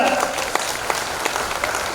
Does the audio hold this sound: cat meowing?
no